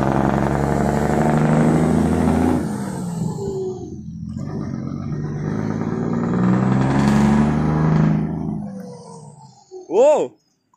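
Turbocharged pickup truck revving loudly, its engine roaring and surging in waves, dipping and rising again before cutting off, followed by a short sharp squeal at the end.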